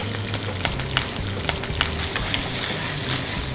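Green chillies fry in hot oil while a mango coconut rice dish is prepared, giving a steady, loud sizzle with crackling pops and occasional stirring. The sound stays close and constant, with no voices.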